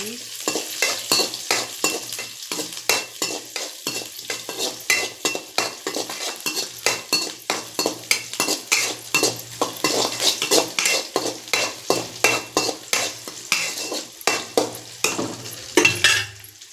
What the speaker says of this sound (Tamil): இப்போ சின்ன வெங்காயம் எடுத்துக்கோங்க. நல்லா வதக்கிக்கோங்க.